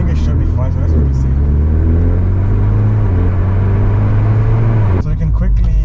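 A car fitted with a valved exhaust bought from Alibaba runs close by, giving a loud, deep, continuous rumble with strong low engine tones that shift slightly before a brief change near the end.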